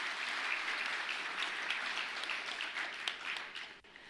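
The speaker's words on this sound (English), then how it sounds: "Can we please give her a round of applause?" An audience at a tax policy talk gives a sustained round of applause for a speaker, a dense wash of many hands clapping that stays loud for several seconds before thinning near the end.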